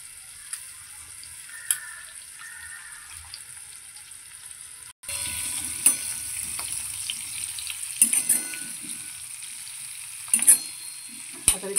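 Onions fry in a pan for a small-onion bhaji with a pinch of asafoetida, a soft sizzle that grows louder once the flame is raised, broken by scraping stirs of the spoon.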